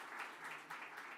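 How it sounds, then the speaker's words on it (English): Short, quiet burst of audience applause for the parents at a celebration event, soft pulsing clapping heard at a distance. "let's give a round of applause for the parents"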